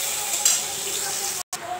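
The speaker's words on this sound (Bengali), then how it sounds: "পেঁয়াজটা লাল লাল করে ভেজে নেব।" Onions frying in oil with bay leaf, cumin and nigella seeds, a steady close sizzle that runs on without a break, cut by a sudden brief silence near the end.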